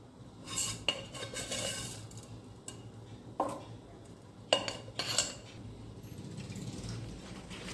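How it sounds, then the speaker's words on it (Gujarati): A spoon stirs bajra-flour dhokla batter with sugar in a bowl, giving scattered metallic clinks and scrapes against the bowl at an uneven pace, fairly close and quiet. "અને ખૂબ હલાવી લઈશું આપણે આને"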